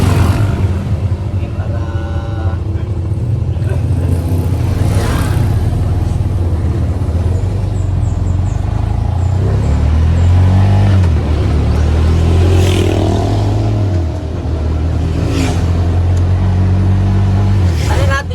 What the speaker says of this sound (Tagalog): Daming motor, daming sakyan at mga nagmamadali.